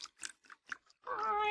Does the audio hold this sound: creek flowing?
no